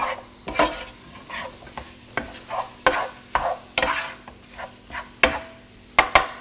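An egg omelet mixture sizzles in a pan while being stirred, with a soft constant hiss punctuated by a run of sharp, evenly spaced scrapes and taps of the utensil, close up and without speech.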